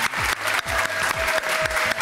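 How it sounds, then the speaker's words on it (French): A television talent-show audience claps for a contestant, a short burst of dense applause with a repeating percussive pulse and a faint tonal line running underneath. "Un tonnerre d'applaudissements pour Cédric."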